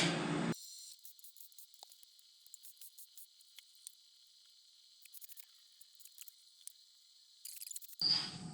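A steady, high cricket trill drones on continuously, with faint ticks and rustles beneath and louder noise at the start and end.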